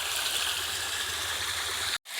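Water spilling over a little ledge into a pool about two feet deep on a wooded property in Dennard, Arkansas. It makes a steady, close rushing and gurgling sound that keeps going on its own and breaks off abruptly near the end.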